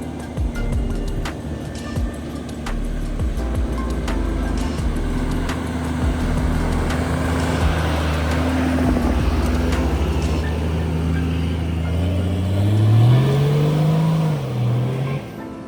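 A Toyota LandCruiser with modified suspension descends a steep offroad hill, its engine holding a steady drone with gear whine that climbs in pitch near the end, loud and close throughout.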